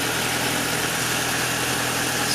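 An old, high-mileage 1.8 litre naturally aspirated car engine idles steadily, a constant low mechanical hum with a faint vibrating rumble, close by and with no one talking.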